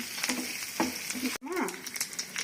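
Crushed garlic sizzling in hot oil in a pan for a tempering, a steady close crackle with brief pops, under a voice speaking throughout.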